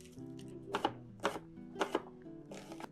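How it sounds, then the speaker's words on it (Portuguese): An onion is chopped with a knife on a board, giving several crisp, close knocks spaced in pairs and singles over a soft background hum, with no talking. "agora vamos picar nossa cebola para levar para a panela com manteiga derretida"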